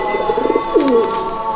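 Racing pigeons coo close by in a loft, a run of short throaty pulses that build into one longer rolling coo, clear and steady, with no voices over it.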